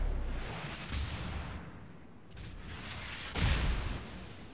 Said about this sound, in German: Ja, hier werden wir unter schweren Schuss genommen.